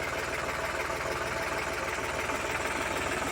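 A New Holland 3630 tractor engine idles with a steady, rumbling, even mechanical knock, loud and continuous throughout with no pauses.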